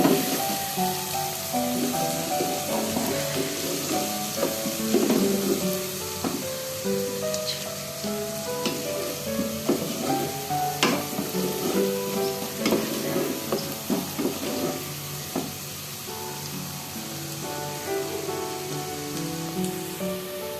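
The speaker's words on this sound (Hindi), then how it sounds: "जब अदरक लहसुन भी अच्छे से भून जाएगा" Ginger, garlic and chillies sizzle and fry in a pan for a kadhi pakora dish, a dense continuous crackle and spatter with scraping stirring sounds throughout, close and fairly loud, no talking.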